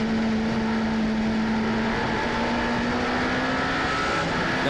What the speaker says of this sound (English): there goes the Prema car, just coming into shot